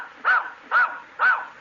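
Dog named Roger in a radio comedy routine barking three evenly spaced short barks in answer to arithmetic questions, clear and close with no talking over them.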